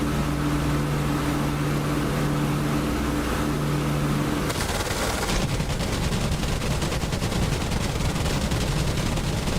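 Aircraft cannon fire in the DCS flight simulator, a dense rapid rattling burst that starts midway and keeps going over a steady engine drone, loud and with no talking.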